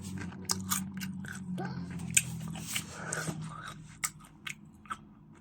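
Someone bites into and chews a red mushroom, giving a string of crisp, crunchy bites and moist chewing sounds up close, fairly quiet, over a low background hum.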